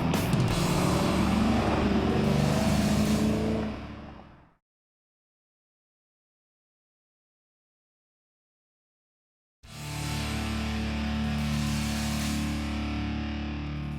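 A car driving around with its engine running steadily and loud, in two long stretches broken by several seconds of dead silence, with no one talking over it.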